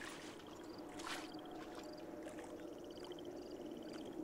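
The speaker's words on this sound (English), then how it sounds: "I'm hoping that's me making the noise in the water" Splashing and sloshing water as a player wades through it in the video game Rage, a steady wash of churning water with faint game tones ringing over it, no speech.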